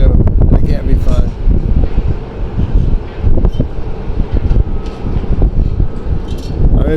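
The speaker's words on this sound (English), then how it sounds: "Winds are picking up now too." Strong wind roars and buffets the microphone continuously, a dense rumbling gust noise with a few faint clanks underneath, at a Las Vegas stadium construction site with cranes operating.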